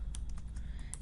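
Quick typing on a computer keyboard, light clicky keystrokes in an uneven run over a steady low hum, close and moderately quiet.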